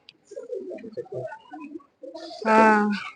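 Pigeons coo in a loud, close burst near the end, following quieter bird calls and a man's chatter at the Gudarala Pandaga Christian festival gathering where rabbits, a swan, hens and goats are also kept.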